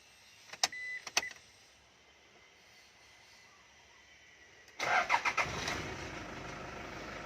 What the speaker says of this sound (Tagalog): nawala ang check engine light at umandar siya